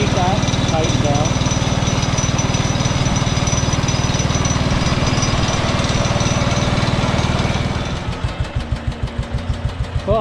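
A Wisconsin engine belted to a Leland alternator generator runs loud and close with a rapid, chugging rhythm, then slows into a lumpy idle with distinct, widening pulses toward the end.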